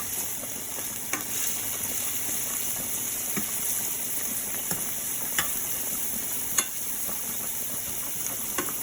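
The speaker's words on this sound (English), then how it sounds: "Continue to stir the sauce so it doesn't stick" Sauce with sautéed peppers and onions sizzles steadily in a pot for lasagna, a constant close frying hiss broken by occasional scrapes and clicks of stirring.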